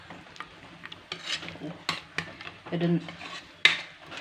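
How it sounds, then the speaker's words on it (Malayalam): Curry with its liquid being pounded and mashed in a pot, soft squelching thuds and scraping utensil knocks in an irregular rhythm, close by, with one brief spoken word near the end. "കറിൻ്റെ വെള്ളമൊക്കെ ഒഴിച്ച് കൊടുത്ത് ഇനി ഇത് നല്ലോണം കുത്തി ഉടച്ചെടുക്കാം"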